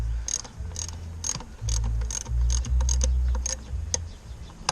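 A ratchet tightens the ignition coil bolts on a 2012 Nissan Versa, giving quiet, close, rapid clicking in short bursts separated by brief pauses.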